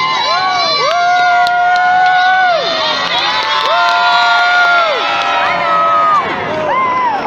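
A crowd of spectators, with children's shrill voices, cheers and screams continuously at an Easter jousting tournament as riders charge with lances, loud and sustained with rising whoops.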